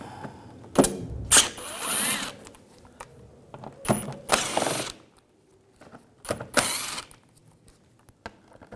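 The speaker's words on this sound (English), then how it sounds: "Using a T25 socket, we're going to take these screws out" A ratchet with a T25 socket backing out headlight screws on a 2011-2018 Volkswagen Jetta, heard as several bursts of rapid close clicking separated by short pauses and small metallic clinks.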